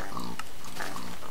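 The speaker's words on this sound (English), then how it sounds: "goddamn pigs are so damn loud, aren't they?" Pigs in a Minecraft farm grunting and oinking loudly and continuously, several overlapping calls close by, with no talk over them.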